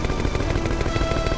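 Rapid gunfire aimed at the boss Dante in the video game Croc 2, a quick run of repeated shots in a dense, loud burst.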